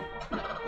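A short, gobbling, fowl-like squawk from an undead cuckoo enemy in a Zelda game, brief and moderately loud over a harmonic game soundtrack, with no voices.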